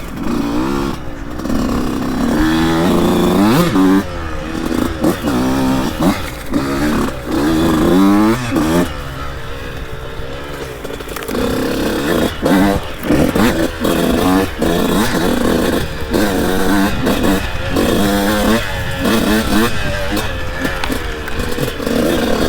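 A 2002 Honda CR125 two-stroke dirt bike rides a tight trail with a loud, buzzing engine. It revs up and drops back again and again in quick bursts, heard close, with a rider's voice talking at times over it.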